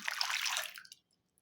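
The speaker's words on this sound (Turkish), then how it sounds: "Öncelikle şöyle bir su bardağı kadar ılık sütümü yoğurma kabıma alıyorum." A glass of warm milk poured into a kneading bowl, a short, close liquid pour lasting under a second that trails off into silence.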